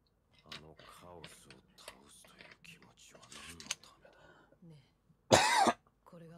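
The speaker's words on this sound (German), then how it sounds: "Ich merke, dass ich wieder husten muss." One loud, harsh cough bursts out close to the microphone after a stretch of quiet talking, with a little murmuring before it fades.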